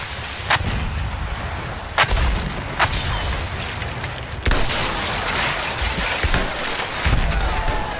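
Battlefield 1 beach assault: sharp gunshots and heavy booms crack out at irregular intervals over a dense, rumbling wash of battlefield noise, with one especially big blast near the middle.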